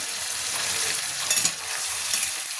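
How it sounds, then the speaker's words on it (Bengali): Spice masala with salt and whole tomato pieces frying in a pan for an egg omelette curry, a dense continuous sizzle with soft spatula stirring close up and no voices. "মশলাটা একটু নাড়াচাড়া করি।"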